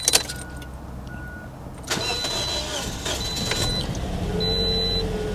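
A 1993 Mercedes SL500 engine cranks with sharp clicks and a whir, then fires about two seconds in and settles into a steady, slightly rough idle, close and moderately loud.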